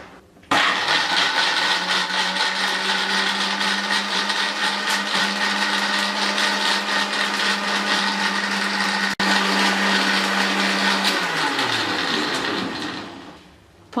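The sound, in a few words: blender blending falsa berries with water for juice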